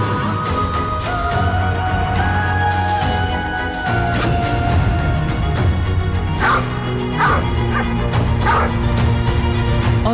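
A dog barks several times in a courtroom drama, with short yips and bow-wows over a continuous music score that plays throughout.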